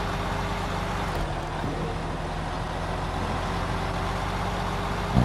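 A Mack truck in the video game SnowRunner labours up a steep hill, its engine droning in a steady, loud, low rumble with constant harmonic hum throughout.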